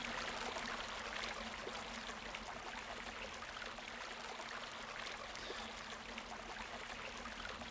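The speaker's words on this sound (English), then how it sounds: "Listen to the soothing water." Gently flowing water near a bank in the stealth game Supreme Ghost Thief 2, a soft, steady trickling stream running quietly and continuously with no voices.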